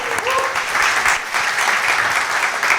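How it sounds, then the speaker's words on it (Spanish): Steady studio audience applause on a cooking show, dense and sustained throughout, with a brief faint tone near the start and no talking over it. "Un aplauso para Melida"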